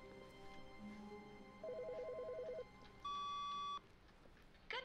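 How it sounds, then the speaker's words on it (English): Electronic ringing and beeping from a telephone in the video game The Stanley Parable: a short warbling trill, then a long steady tone and a brief final burst, alone and fairly clear. "Something's ringing."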